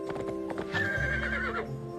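A horse in a Barbie video game whinnies once in the middle while steady clip-clopping hoofbeats run underneath, fairly quiet and close.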